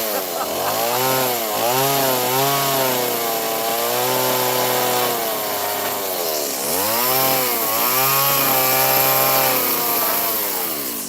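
A chainsaw carves a wood sculpture, its engine loud and close, revving up and down in long repeated surges as it cuts.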